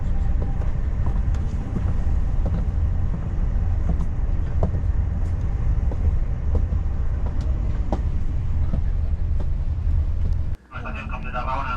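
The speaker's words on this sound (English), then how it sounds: "I think now the train is on the max speed." Steady loud rumble inside a high-speed train at top speed between Barcelona and Zaragoza, constant roar with faint rattles, ending in a brief dip then a different tonal hiss.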